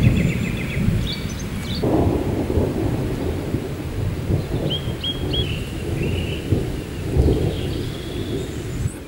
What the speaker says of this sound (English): We still had the thunderstorms around here. We have some rain